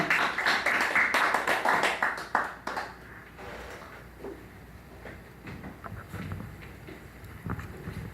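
A church congregation claps after a sermon, brisk, loud rhythmic clapping in the opening seconds that quickly fades into quieter room noise with a few scattered sounds.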